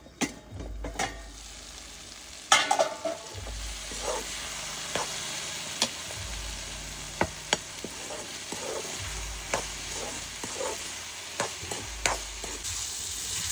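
Wild sponge gourd and tomato cook in a covered pan, giving a steady soft sizzle and hiss with scattered sharp clinks and stirring knocks from a utensil against the pan throughout.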